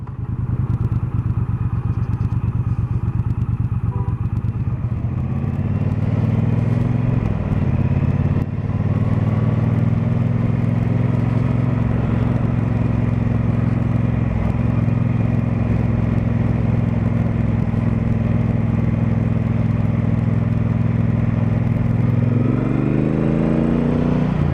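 A 2018 Triumph Bonneville Bobber's engine on the move, a steady, loud, close low rumble throughout the ride, briefly dipping in pitch before settling and rising again near the end.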